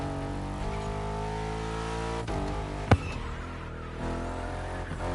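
Mercedes-Benz V8 engine in The Crew Motorfest racing game, a sustained engine drone with stepped shifts in pitch, a sharp click near the middle and a brief dip before the note settles again.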